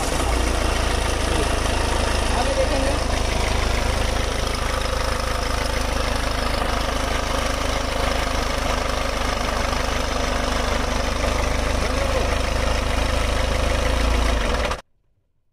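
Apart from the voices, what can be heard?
Ford EcoSport engine started and idling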